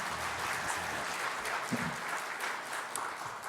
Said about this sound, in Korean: 우리 모든 성도들과 우리 성가대 위에서 우리 박수 한번 해주시기를 바랍니다